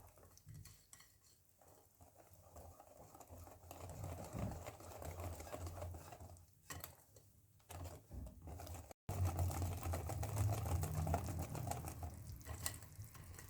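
Semolina batter for oven-baked harsha being stirred in a bowl: a steady scraping and sloshing that grows louder and denser in the second half, with brief pauses.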